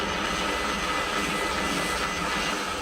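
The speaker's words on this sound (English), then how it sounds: "there's like a jet right above me" A jet aircraft flying overhead, heard as a steady, broad roar that holds at an even loudness throughout without any talk.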